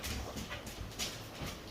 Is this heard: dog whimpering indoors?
yes